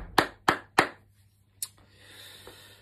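Three sharp, evenly spaced claps at a school celebration assembly, close and distinct, followed by a pause, one more clap and a faint murmur of room noise.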